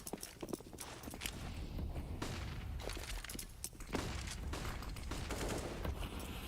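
Rifle fire in a professional Counter-Strike esports match, with repeated sharp bursts and scattered single shots over a steady background of crowd and game ambience, moderately loud throughout.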